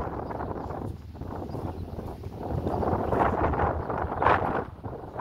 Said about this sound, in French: Désolé s'il y a un peu de vent.